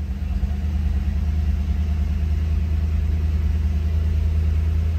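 A 1966 Ford Mustang GT engine idling after ten years parked, a steady loud low rumble with an even pulsing throb, close and unbroken throughout with no talk.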